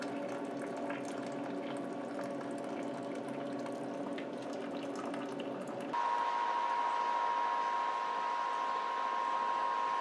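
A pump circulates hot wort through a chiller during all-grain home brewing, humming steadily alongside running water, then shifting to a brighter, constant mechanical whine partway through.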